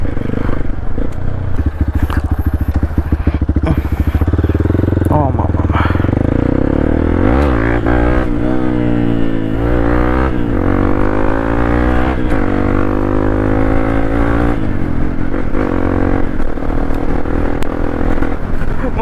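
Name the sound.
Hero Xpulse motorcycle riding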